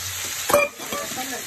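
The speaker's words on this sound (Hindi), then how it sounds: "अब पनीर को भूनते हैं।" Paneer frying in a kadai, heard as a steady close sizzle with a brief louder stirring scrape near the middle.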